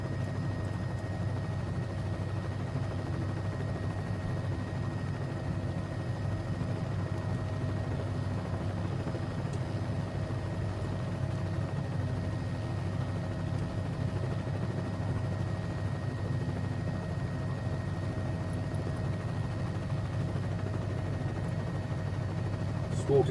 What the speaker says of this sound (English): And we have a live engine.